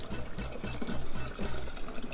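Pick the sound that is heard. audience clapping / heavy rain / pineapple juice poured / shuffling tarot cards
pineapple juice poured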